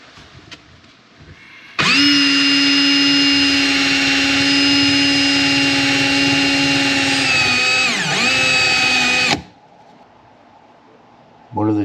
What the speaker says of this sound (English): I'm gonna get the brass wheel out and see if we can get some of that off of there